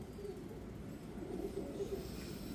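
A soft-feathered domestic pigeon cooing: low, muffled repeated coos over a dull background hum, fairly faint, with no voices.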